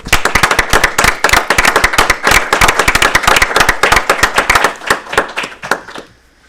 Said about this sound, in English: I think we should all applaud Brenda.